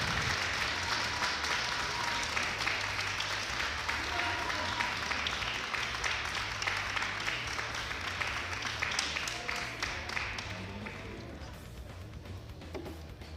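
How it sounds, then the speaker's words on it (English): Crowd applause after a fighting bout at a Lutador de Elite event, sustained and fairly loud throughout, with an announcer talking over it before it tapers off toward the end. "Both fighters getting a big applause here."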